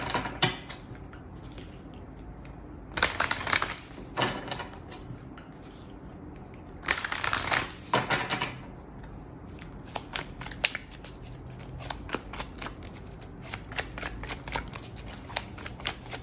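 Moonology oracle cards being shuffled by hand in several quick, crisp bursts of riffling and flicking, close and fairly quiet, separated by short pauses and lighter card taps.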